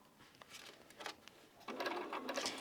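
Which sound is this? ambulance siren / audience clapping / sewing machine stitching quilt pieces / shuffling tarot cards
sewing machine stitching quilt pieces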